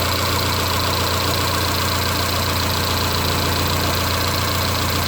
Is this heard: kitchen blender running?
no